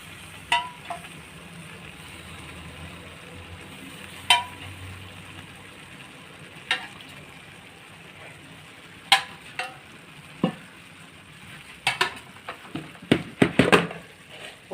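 Warm sugar syrup poured over a hot, freshly baked lemon cake, giving a soft low sizzle under a string of sharp clinks that come sparse at first and then bunch together toward the end.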